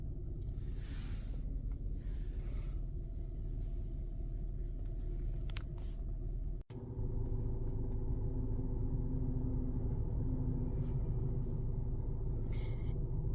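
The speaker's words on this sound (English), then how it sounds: "the skid steer is going to come out and it's going to be filling up a little bit of chicken litter" A skid steer engine runs steadily on a chicken farm while loading chicken litter, a continuous low rumble with a brief dropout midway, then resuming slightly louder and nearer.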